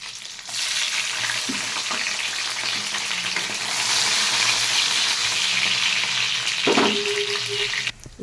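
Whole spices, soaked cashews and raisins sizzle steadily in hot oil for a tempering of cardamom, cloves, cinnamon and bay leaves, a continuous close frying hiss with a few stirring scrapes and no voices.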